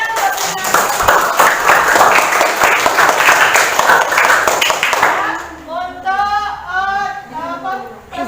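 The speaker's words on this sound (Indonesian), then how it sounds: "Ya, anak tepuk tangannya untuk bintang" Schoolchildren in a classroom clap loudly together for a presenting group, a dense burst of applause lasting several seconds before it breaks up into scattered claps under excited young voices and chatter.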